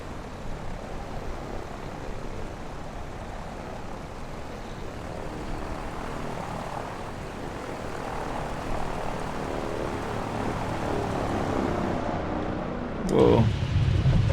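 A Wilga propeller airplane engine in MS Flight Simulator 2024 drones steadily and loudly throughout, its rumble building slightly before a short sharp burst near the end.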